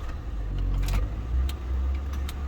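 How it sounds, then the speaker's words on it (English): A Lincoln Town Car's safety switch gives a few faint, sharp clicks after the engine is switched off, set against a steady low rumble. "that click, that's the safety switch"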